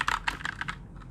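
Several keystrokes on a Keychron K2 keyboard, including the backspace key, click in a quick uneven series, close and fairly quiet, with nothing else heard.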